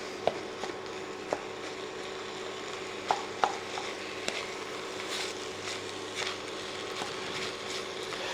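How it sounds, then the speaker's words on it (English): Lamb mince browns in a pan with a low, steady sizzle, punctuated by scattered sharp clicks and scrapes as a utensil breaks it up; quiet and close, with no voices. "Break up the mince and allow it to brown."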